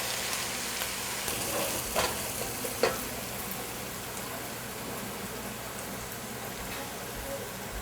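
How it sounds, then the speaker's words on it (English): Chopped onions fry in a pan for chicken biryani, a steady broadband sizzle with a couple of brief scraping stirs, moderately loud and continuous with no talk. "you need to constantly stir the onion or it will burn"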